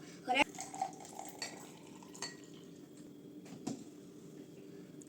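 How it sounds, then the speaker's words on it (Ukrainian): A spoon clinks sharply against a cup a few times while sugar is stirred into freshly poured hot tea made with a tea bag, followed by quieter scraping and a low kitchen background. "Розмішаємо цукор і хай настоїться."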